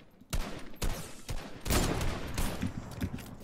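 Rapid gunfire in the video game Fortnite, several sharp bursts of shots in quick succession, loud and close, followed by sustained overlapping fire.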